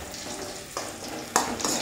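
Onion, ginger and green chili frying in a pan, a close continuous sizzle with two brief louder stirring scrapes, alone without talk.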